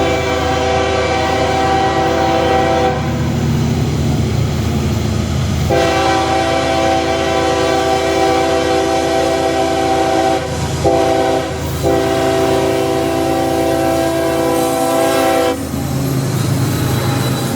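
A loaded grain freight train climbing toward Gainesville, Georgia, rumbles past close by while its horn blasts repeatedly in long, loud chords separated by brief gaps.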